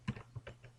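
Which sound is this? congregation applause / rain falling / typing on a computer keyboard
typing on a computer keyboard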